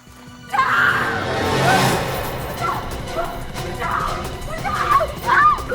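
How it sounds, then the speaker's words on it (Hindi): A woman screams in a tense indoor crime-drama scene, with sharp, high cries rising over ongoing noise and scattered thumps. "तुम्हें क्यों चिल्ला रही हो?"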